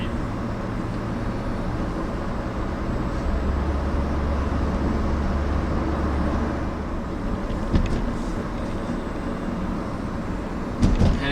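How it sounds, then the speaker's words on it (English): A turbocharged 2.0-litre 2004 Saab 9-3 ARC accelerates on the road, its steady, bass-heavy engine drone filling the cabin with a low rising note over constant road noise and a couple of small knocks. "just wanted to show you all a bit of the acceleration, a little bit of the power and the 210 horsepower turbocharged motor"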